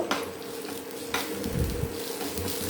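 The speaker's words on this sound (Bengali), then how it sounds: "একটু কেসুরি মেথি আর রসুন কুচিটা একটু ভেজে নেব, ভালো করে একটু ভেজে নিতে হবে তেলে।" Chopped garlic and dried fenugreek leaves fry in hot oil with a close, continuous crackling sizzle, broken by a few soft scraping stirs of a spoon in the pan.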